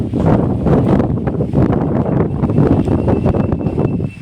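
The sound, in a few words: morning wind in mango orchard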